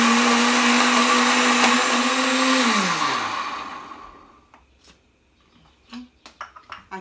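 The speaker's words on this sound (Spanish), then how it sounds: "Y lo vamos a moler hasta que esté bien molidito y bien mezclado todo." A blender grinds pumpkin seeds and sesame seeds, running loud and steady at a high whine for about three seconds. The motor then winds down and stops, and a few small clinks and taps follow in the quiet.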